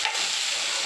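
Potatoes and cauliflower hiss in a hot pan as they are stirred, a close, steady sizzle with soft scraping underneath, brief and unbroken.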